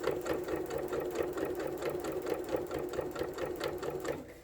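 A sewing machine stitches through a bulky rag quilt with a steady, rapid mechanical whir and rhythmic needle clatter, close and continuous without pause.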